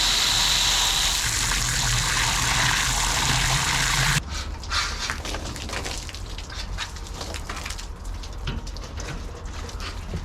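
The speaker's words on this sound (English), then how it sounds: "If you're hosing your cylinders out with water" Water sprayed from a hose rushes loudly into the cylinders of a seized, farm-built Cadillac V8 airboat engine, then gives way to quieter splashing and dripping with scattered knocks.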